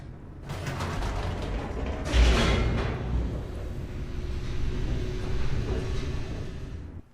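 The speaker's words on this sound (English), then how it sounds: "The elevator raced downward, plummeting towards an unknown fate." An elevator descends in the video game The Stanley Parable Ultra Deluxe, a continuous mechanical rumble and creaking grind, with a louder clunk and whoosh near the start, then a steady low drone with faint ratcheting and no voice.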